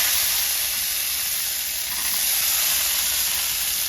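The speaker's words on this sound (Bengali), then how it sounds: "এবার প্যানে দিয়ে দিব বাদাম" Peanuts sizzle loudly in a hot pan, a dense, continuous hiss of frying that holds steady throughout with no voices.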